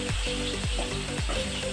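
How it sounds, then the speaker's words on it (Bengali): Fish frying in hot oil, a steady loud sizzle with rhythmic stirring or scraping strokes about every half second, no voices. "গরম গরম মাছ ভাজা।"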